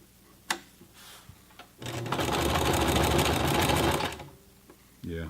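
A Sears Kenmore 12781 sewing machine stitches through thick leather in one steady, loud two-second run of rapid needle clatter, with a few faint clicks before it and a short mechanical sound after.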